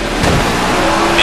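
A race car roars close behind in a short, loud burst of engine and tire noise, heard from nearby.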